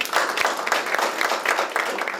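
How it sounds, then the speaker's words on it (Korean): Audience applause at a Seoul city jobs policy forum welcoming a speaker to the podium, a brief steady patter of clapping from a seated crowd. "큰 박수로 맞이해 주십시오."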